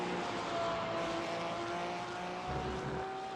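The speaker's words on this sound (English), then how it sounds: "as we hear the wondrous engine noises from the Porsche" A Porsche GT3 race car in a sim racing game at Laguna Seca holds a continuous, droning engine whine with steady tonal pitch and no gaps, moderately loud throughout.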